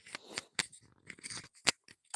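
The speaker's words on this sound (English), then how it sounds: "I gotta trim my mustache a little bit" Small scissors snip at a mustache in a short burst of close, crisp cuts, several quick clips in an uneven rhythm with brief pauses between them.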